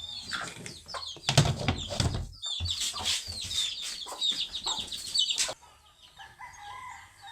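A hen near a window clucks and calls repeatedly amid dense, close bird chatter, with the sound thinning out toward the end.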